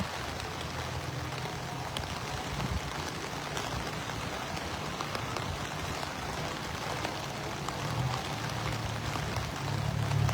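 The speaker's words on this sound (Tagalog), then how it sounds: "malakas po ang ulan din dito sa bayan ng San Isidro" Heavy rain falls steadily over the river town of San Isidro, Pampanga, a dense continuous wash of drops with a low rumble beneath, close and even throughout with no voices.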